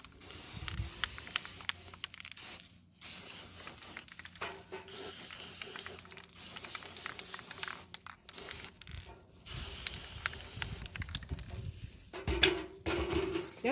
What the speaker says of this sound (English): I got spray paint getting on my table.